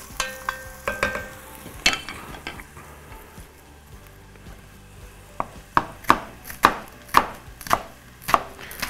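A knife chops onions on a board for imam bayildi, a Turkish aubergine dish, with sharp close knocks, irregular at first and then settling into a steady rhythm of strokes.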